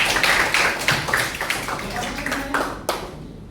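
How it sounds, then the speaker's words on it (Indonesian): Classroom applause for a student group in a high school guidance lesson, a burst of loose clapping from nearby pupils with chatter mixed in, fading toward the end. "Tepuk tangan untuk kelompok 2."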